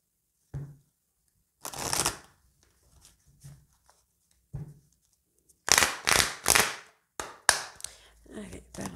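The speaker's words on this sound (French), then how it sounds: "je vais faire une coupe si ça ne parle pas tout de suite" Oracle cards shuffled and the deck cut by hand, close and fairly quiet at first, then several sharp riffling bursts and slaps in quick succession, with brief soft voice sounds between.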